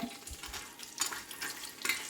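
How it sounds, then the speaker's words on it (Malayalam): Cashew nuts fry in ghee in a bronze uruli for an Onam ada pradhaman, giving a soft steady sizzle with a few faint scraping bursts, quiet and close, with no talk. "അണ്ടിപ്പരിപ്പ് മുന്തിരിങ്ങി ഇതിനകത്ത് വറുത്തെടുക്കാം അണ്ടിപ്പരിപ്പ് ഇട്ട് കൊടുത്തിട്ടുണ്ട്"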